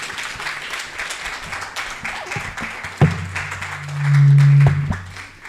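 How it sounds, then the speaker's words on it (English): Audience applause at a conference session: a steady crackle of many hands clapping throughout, with a low electronic hum swelling near the end. "A round of applause"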